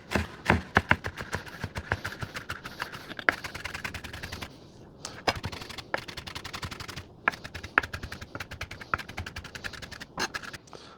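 A knife mincing onions for a street corn pasta salad makes rapid, crisp chopping taps on a cutting board, close and fairly quiet, in quick bursts with brief pauses between them.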